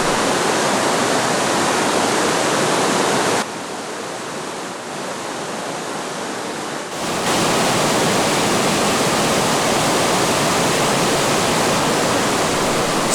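A waterfall in the Gabon tropical forest roars loudly and continuously, a dense rushing wash of falling water that briefly drops to a quieter level partway through before returning to full strength.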